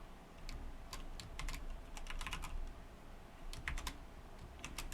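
Python code is typed on a computer keyboard in soft clusters of key clicks with short pauses between bursts, quiet and close, with no talking.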